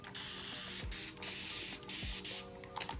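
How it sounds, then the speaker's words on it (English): Short hissing bursts from a Curl Keeper spray bottle misting water onto natural 4c hair, several quick sprays spaced out over a steady background hum, close and fairly soft. "This is the Curl Keeper spray bottle."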